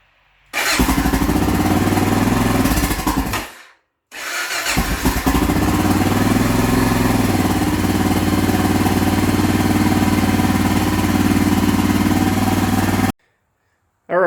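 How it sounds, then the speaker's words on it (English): A Honda XR650L motorcycle engine starts and idles steadily after an oil change, cutting out briefly and restarting, then running loud and close with a constant low thump. "you're going to want to start it up and let it run to get the oil circulating through it"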